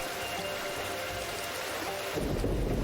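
Stormy weather in the video game Diluvian Winds: a steady rush of rain and wind, with a louder low rumble of thunder swelling in near the end.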